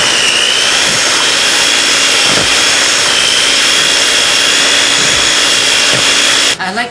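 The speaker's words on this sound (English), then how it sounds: "then we're going to cream it together until it's light and fluffy" An electric mixer creams sugars, jumbo eggs and pure vanilla extract for chocolate chip cookie dough, a loud steady whirring drone held for several seconds before it cuts off at the end.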